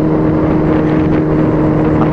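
Motorcycle cruising on an expressway during a group ride, a steady loud engine drone with wind rush, continuous and close throughout.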